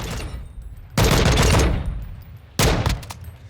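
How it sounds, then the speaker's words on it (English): Gunfire from a tap-fired tactical weapon in Call of Duty Modern Warfare, with dense bursts of rapid loud shots that stop and restart twice in a few seconds, no talk. "You can tap fire this thing pretty quick."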